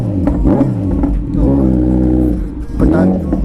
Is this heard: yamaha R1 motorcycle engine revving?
yes